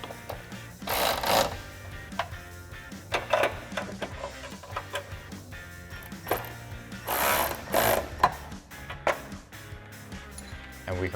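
A ratchet tightens 10 mm bolts on the pinch weld of a Jeep Wrangler JL while fitting rocker armor side step bars, giving bursts of rapid clicking that stop and start, close and fairly loud.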